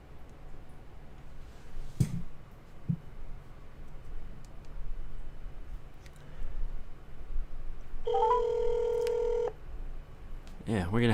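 A phone call on speakerphone: faint clicks and room noise, then a single steady ringing tone of about a second and a half near the end.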